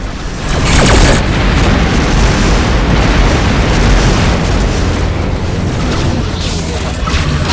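Missile explosions boom through a space dogfight in the PS4 game Rebel Galaxy, a loud sustained roar of blasts and rumbling debris that swells early and then holds dense throughout.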